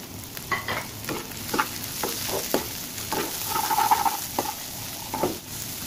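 Capsicum frying in hot oil, with a continuous sizzle and hiss under repeated stirring scrapes and clanks of a spatula in the pan, close up and fairly loud, with no talking.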